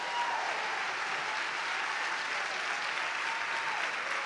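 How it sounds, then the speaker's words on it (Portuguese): A church congregation gives a round of applause for a visiting pastor, producing steady, dense clapping that holds at an even level throughout, somewhat distant and with no voices over it. "Se eu fosse você, dava uma salva de palmas"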